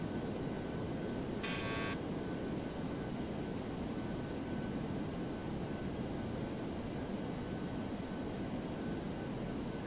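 A DC-8-73F four-engine jet descends toward landing in a flight simulator game, a steady, continuous broadband engine roar with a faint whine, close and unbroken throughout, with a brief higher chirp near the start.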